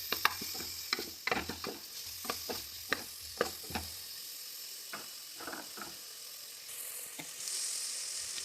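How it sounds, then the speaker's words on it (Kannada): Ginger garlic paste and cumin sizzle in a hot pan as they are stirred, with sharp scraping clicks and spatters repeating irregularly over a steady frying hiss that grows louder near the end. "ಶುಂಠಿ ಬೆಳ್ಳುಳ್ಳಿ ಪೇಸ್ಟನ್ನು ಸೇರಿಸ್ತಾ ಇದ್ದೀನಿ."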